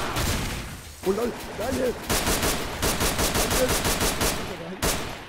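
Rapid bursts of gunfire crackle through a round of Trouble in Terrorist Town, with a steady stream of shots running through most of the stretch, loud and close, while players talk and laugh over it.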